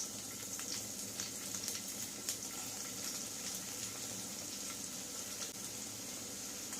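Chopped onion sizzles steadily in hot oil with fried cumin seeds, a faint, even crackle with no talk.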